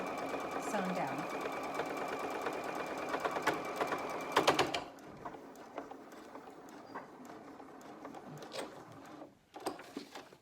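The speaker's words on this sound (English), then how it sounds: "Bring it forward a little so the foot is set right on the edge of the hem, and then begin to get that sewn down." Sewing machine stitching the hem of a dense single-layer fabric mask: a close, steady run of stitching for about five seconds, then quiet handling clicks, with a voice talking throughout.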